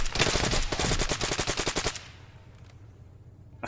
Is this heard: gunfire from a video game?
yes